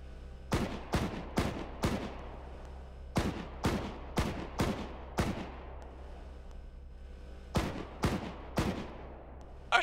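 High-explosive rounds are fired at a house in a tactical realism video game, a series of sharp, loud booming shots in evenly spaced groups, each with a fading tail, separated by brief pauses.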